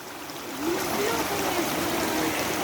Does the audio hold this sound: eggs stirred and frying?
no